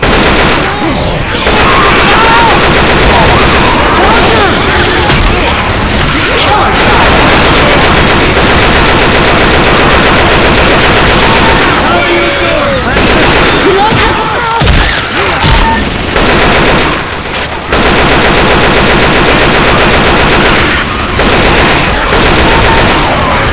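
Video game battle with sustained, loud machine gun bursts and rapid gunfire, some heavier booms mixed in, nearly continuous with brief pauses between volleys.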